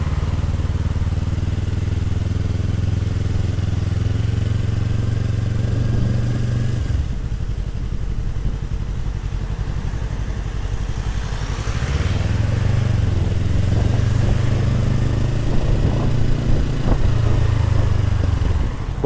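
A 2022 Yamaha MT-03 motorcycle with its stock exhaust runs close by, a loud steady engine note dropping away midway and then returning, with scattered crackles and pops from the exhaust.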